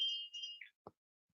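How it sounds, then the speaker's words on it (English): A small bell is rung, giving a bright, clear ding that rings briefly, then a second soft tap. It is quiet and close, with no talking. "Ring the bell."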